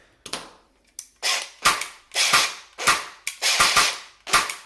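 An airsoft M4 CQB Version 2 gearbox fitted with a Gate MERF 3.2 MOSFET fires full auto in about eight short, sharp bursts of rapid mechanical clacking, loud and close with brief silent gaps between them.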